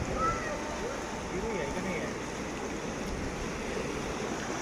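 Ocean waves wash against the shore at Pulau Kunti in Ciletuh, Sukabumi, making a faint, continuous broadband rush that holds steady from start to end.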